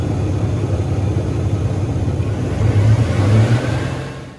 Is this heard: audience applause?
no